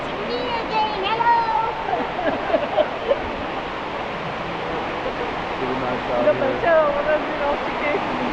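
A waterfall at a building in Estepona pours with a steady broadband rush, heard close and fairly loud, while people talk over it.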